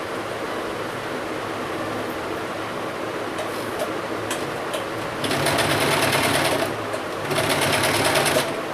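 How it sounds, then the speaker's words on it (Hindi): A sewing machine stitches ribbon onto a doll's half pant, running in a steady mechanical whir with two louder, faster bursts toward the end. "अब मैं इसको सिलाई लगा दूँगी।"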